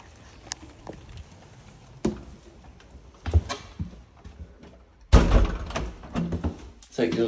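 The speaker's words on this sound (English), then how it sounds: "UPVC entrance door." A UPVC entrance door at a house opens and shuts with a few separate thunks and a heavier closing thud, close by, while a voice talks at points.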